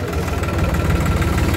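A New Holland 3600-2 tractor's engine runs close by with a steady, rough low rumble and vibration, holding a loud, even drone throughout with no speech over it.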